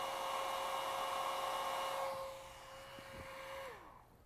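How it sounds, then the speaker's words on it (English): Air blown across a heated bimetal strip in a physics lecture demonstration, a steady broad hiss with a sustained tone that runs for several seconds, then dips and fades out near the end. "when I blow air over it, I can actually make it cool a little faster than it will otherwise"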